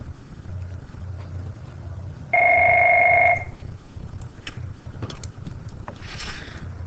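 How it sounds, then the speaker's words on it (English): A telephone rings once with a steady electronic double-tone trill lasting about a second, loud against quiet background room noise, with no talk during the ring. "I apologize, I had a phone call"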